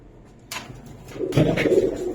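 Pakistani high flyer pigeons of the TD 128 bloodline, brought from Oman, coo softly at a pigeon farm, a low murmuring call that swells after a brief rustle, with no voices.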